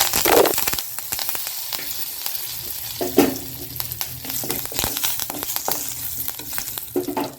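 Dried red chillies and curry leaves crackle and sizzle in hot oil for kollu (horse gram) chutney, with a dense continuous frying hiss, several louder pops and bursts of stirring throughout.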